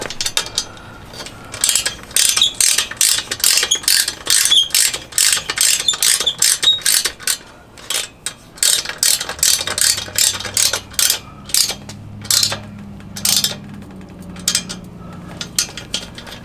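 Rapid bursts of ratchet clicking as a hand ratchet tightens the lock bolt on an over-the-spare hitch basket for a Jeep TJ, with short pauses between strokes and a lighter metallic clatter near the end, close and without talk.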